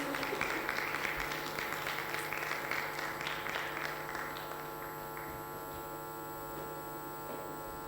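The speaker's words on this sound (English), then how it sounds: "A round of applause" Audience applause for the guest of honor at a women's empowerment event, with steady clapping over a loud mains hum that thins out after about four seconds, leaving the hum alone.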